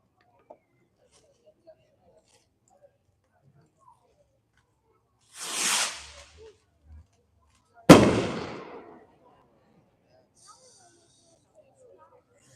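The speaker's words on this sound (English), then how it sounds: "Next one we're going to do is a large diameter ball rocket. It's from Maddox. It's called Sun Ring Rocket." A large-diameter ball rocket firework, the Maddox Sun Ring Rocket, at a night demo: a brief whooshing launch around six seconds, then a sharp loud burst that trails off into crackle, with long quiet stretches around it.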